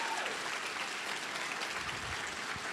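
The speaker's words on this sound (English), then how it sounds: "So give yourselves a round of applause for that" A stand-up comedy audience claps in a thick, continuous wash of applause that holds at a constant level throughout, with no talk over it.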